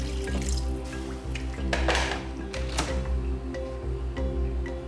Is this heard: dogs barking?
no